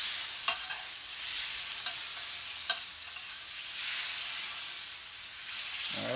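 Oil and butter sizzle and hiss steadily in a hot pot while cooking spicy honey garlic lobster, a loud, continuous frying wash with a few faint clicks and no talking.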